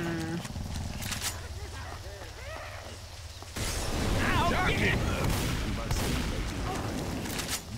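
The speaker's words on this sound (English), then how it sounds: "Oh, double boomers. Let me blow them up!" Boomers are blown up in the zombie shooter Left 4 Dead 2, with bursts of gunfire and explosive blasts amid chaotic game noise, while a voice talks over the action.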